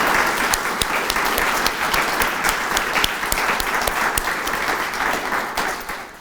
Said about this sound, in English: Let's please give them a round of applause to thank them again for sharing their expertise.